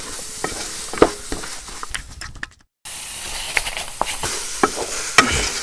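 Beef tossed with masala in a hot pan gives a hissing stir-fry sizzle broken by scraping stirs, with a brief cut to near silence midway before the frying resumes; no voices.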